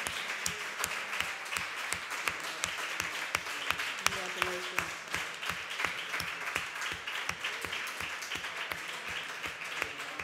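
A crowd applauds steadily for several seconds at a talk, dense rapid clapping with a few voices faintly underneath.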